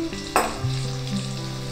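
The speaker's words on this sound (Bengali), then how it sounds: "তেলটা হালকা গরম হওয়ার পরই আলু ছেড়ে দিলাম। এবার রঙের জন্য একটু হলুদ দিয়ে দিলাম" Potatoes frying in hot mustard oil with turmeric for mutton curry, a dense close sizzle with a sharp burst as they hit the oil, then steady crackling.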